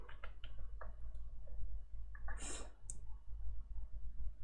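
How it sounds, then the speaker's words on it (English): Keystrokes on a computer keyboard come in a short burst of close, distinct clicks, followed by a few more taps over a low steady hum. "Start by typing hello world."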